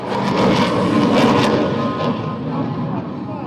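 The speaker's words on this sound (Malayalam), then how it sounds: "പോർവിമാനങ്ങളിൽ മുൻപൻ തേജസ് മാർക്ക് വൺ ആൽഫ" A loud jet engine roars steadily throughout as a Tejas Mark 1A fighter passes close overhead at an air display, a broad rushing noise with faint crowd sounds beneath.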